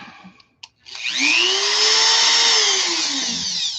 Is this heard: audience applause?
no